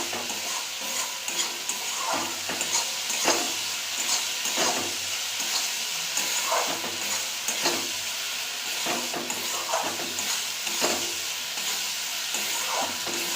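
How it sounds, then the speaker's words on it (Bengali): Spice masala for egg tadka is stirred and fried in oil until the oil separates, a continuous close sizzle with regular scraping stirs throughout. "আমি তেল ছাড়া পর্যন্ত মশলাটা ভালো করে কষাবো।"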